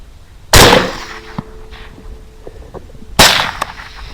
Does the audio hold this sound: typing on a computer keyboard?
no